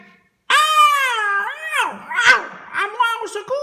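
A cartoon cat yowls loudly while a mouse attacks it, giving long, wavering, pitch-bending wails and then shorter cries, close and clear over a quiet background.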